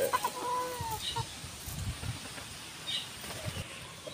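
Pet chickens of a pumpkin hatch cluck and fuss nearby, with brief wing flaps and soft calls over a rustling background.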